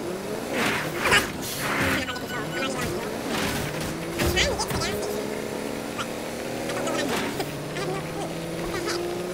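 Car driving in Fortnite, its engine droning and shifting pitch over several seconds with bumps and clatter along the way, while a voice talks over it.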